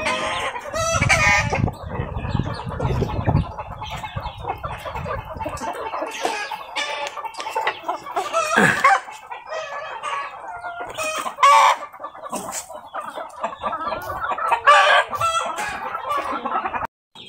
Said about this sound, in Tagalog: Yan o, mga bago na nating manok yan.